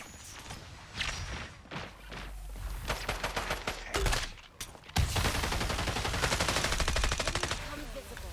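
Rapid automatic gunfire in the shooter game FragPunk, loud bursts of rattling shots with brief pauses, then a sustained dense volley in the second half, with faint footsteps mixed in.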